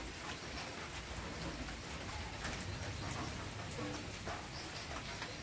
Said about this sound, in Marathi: आणि आज सकाळी सकाळी पाऊस आला.